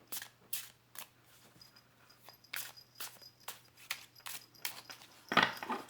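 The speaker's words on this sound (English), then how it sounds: "Do a little shuffle and" Tarot cards being shuffled, a series of soft, quick riffling and slapping bursts at an uneven pace, close by, with no one talking.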